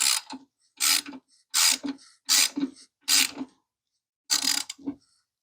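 A ratchet tightens the lower triple clamp bolts on a motorcycle front end, with six close, loud bursts of rapid clicking separated by short pauses and no talk over them.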